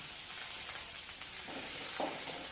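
Garlic frying over a low flame in oil for mixed bajji, a steady soft sizzle that runs alone throughout, with a slightly louder crackling burst near the end.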